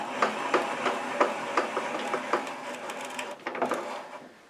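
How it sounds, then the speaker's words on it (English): Repeated ratcheting clicks and soft knocks from a table saw's blade-height crank being turned, close up and fairly loud, in a steady rhythm of roughly two to three turns per second with no talking. "we're going to crank the blade up all the way so we can accurately measure it"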